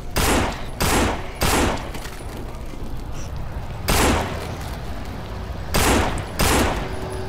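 Several separate bursts of rapid gunfire in the video game No More Room in Hell crack out one after another, loud and close, with short pauses between volleys.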